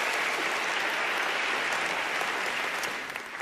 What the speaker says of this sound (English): I get a round of applause for that